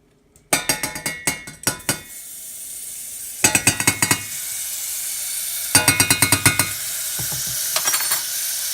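Dairy-free, gluten-free butter spooned into a hot pan: sharp clusters of clinks and taps come in several bursts over a steady soft sizzle, close and fairly loud.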